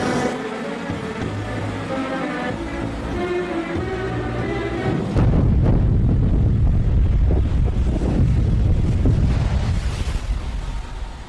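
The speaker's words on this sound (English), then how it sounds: "450 pounds of explosives are about to blow to reveal the gold-bearing quartz vein." Blast of 450 pounds of explosives in a gold mine, set off to expose a gold-bearing quartz vein: a steady loud roar with a sudden heavier low rumble partway through that carries on to the end.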